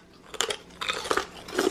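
Sugar-coated apple chips bitten and chewed up close, three or four sharp crisp crunches spaced through a short moment of quiet with no talking.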